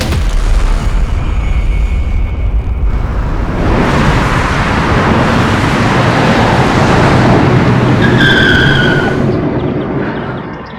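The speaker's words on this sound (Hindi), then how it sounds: "तू तो कमाल की गाड़ी चलाता है" A car speeds along in a Crime Patrol crime drama scene, its broad, loud roar of engine and tyres rising and holding before fading, with a skidding screech near the end.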